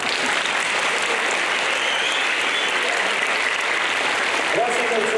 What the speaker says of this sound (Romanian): așa că merită mai multe aplauze.